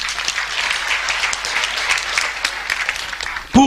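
An audience at a church seminar breaks into applause, a dense sustained clapping that swells and fades, ending with a brief loud thump.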